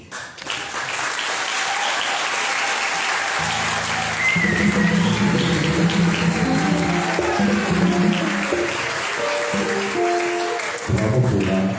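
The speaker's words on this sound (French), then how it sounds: "j'aimerais qu'on applaudisse la voix des anges." A church congregation applauds the choir during a Christmas Nativity Mass in Koulamoutou, Gabon. The steady, dense clapping fills the room throughout, and a sustained musical or sung tone plays underneath it.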